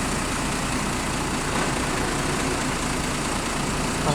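A bus diesel engine runs steadily after restarting on a bend, a dense, continuous, loud rumble with broadband hiss and no change in level throughout.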